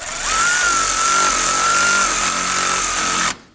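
A power driver runs self-tapping screws through an AC condenser into the radiator of a 2015-2024 Nissan Murano 3.5L V6, one loud, steady whine holding for about three seconds and then stopping abruptly.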